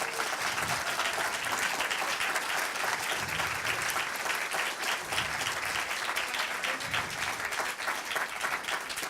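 Sustained applause fills the hall at an evening awards ceremony, a dense, even wash of many hands clapping without pause, steady and moderately loud.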